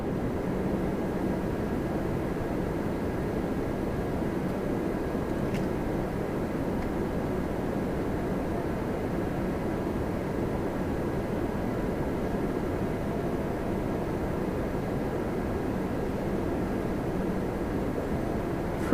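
A WestJet Boeing 737-800 arrives from Cancun at Toronto Pearson, heard as a steady, unbroken broadband jet roar at moderate distance that holds evenly throughout.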